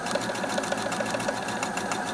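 A sewing machine stitches quilt triangles in a fast, steady run of close, even mechanical clicks and whirring, with no talking.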